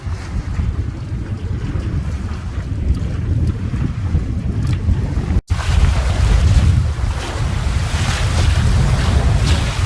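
Wind gusting around the end of an island as a sailboat works through open water, a loud, steady roar of wind and sea noise across the whole stretch, cut by a brief dropout just past the midpoint.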